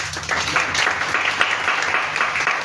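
Church congregation applauding, a loud sustained burst of many hands clapping together in a large room, steady from start to finish after a brief lead-in.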